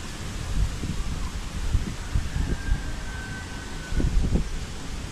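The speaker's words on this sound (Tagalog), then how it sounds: "Sabay-sabay natin pakinggan yung ano ng hangin, tsaka damahin yung sinag ng araw." Wind blowing outdoors in Campanali buffets the microphone, a steady broadband rush with low rumbling gusts that swell several times, most strongly near the end, with no talking.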